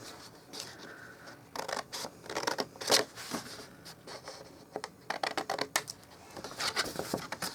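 Scissors notching pieces of paper for a small bag, a run of quiet close snips and paper rustles in irregular bursts, with faint television sound in the background.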